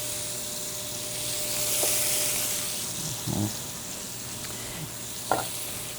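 Scallops searing in a hot pan give a steady, soft sizzle with a few brief pops and stirring clicks, no voices present.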